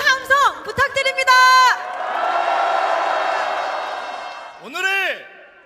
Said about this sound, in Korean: 여러분 다시 한번 뜨거운 함성 부탁드립니다